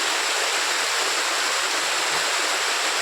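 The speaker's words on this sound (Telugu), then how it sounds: "దుంపవలస గ్రామంలో ఉన్నటువంటి జలపాతం ఇది." Waterfall at Dumpavalasa village, a dense continuous roar of falling water, loud and close, steady throughout with no voices.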